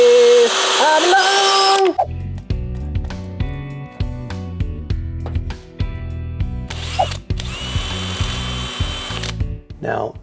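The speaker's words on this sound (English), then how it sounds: "let's drill some holes" Power drill boring holes for a Honda Shadow motorcycle sissy bar install, heard as repeated short pecking bursts of whining drill motor with brief pauses between, close and loud, after an opening stretch of a person speaking.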